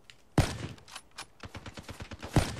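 Gunfire in Call of Duty Black Ops 3 on Xbox 360: two sharp, loud shotgun blasts about two seconds apart, with smaller rapid pops and thuds of other gameplay between them.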